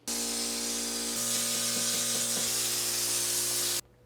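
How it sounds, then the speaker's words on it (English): Spray gun applying LizardSkin sound-deadening coating inside a van, a loud continuous airy hiss with a steady compressor-like hum underneath, running unbroken for several seconds before stopping abruptly. "I'm gonna suit up and get back to spraying."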